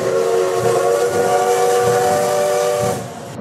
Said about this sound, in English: Doesn't that whistle sound awesome?